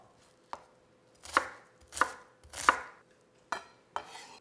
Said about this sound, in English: we're going to begin by chopping up our onion